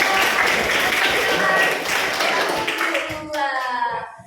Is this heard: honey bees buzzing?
no